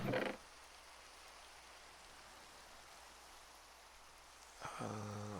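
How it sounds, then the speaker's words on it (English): Steady rain in the game Minecraft hisses as a continuous, even wash of soft noise, with brief in-game sounds at the start and end. "Oh, there's our rain."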